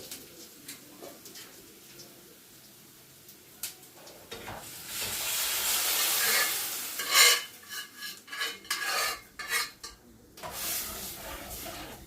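Lentils tipped into a pan of fried onions and black pepper, then stirred: a near scraping, clattering stir with soft sizzle builds midway, with irregular utensil knocks against the pan and no talk.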